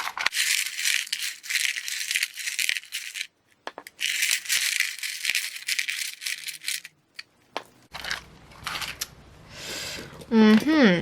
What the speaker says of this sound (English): Here we have the charms, and I will shuffle them with my eyes closed.